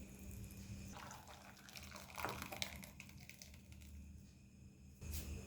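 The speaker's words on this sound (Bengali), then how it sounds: "এবার নামিয়ে ঠান্ডা জলে ধুয়ে নেব।" Cooked sago being rinsed in cold water, a quiet splashing and trickling with soft drips, faint and close, no talk.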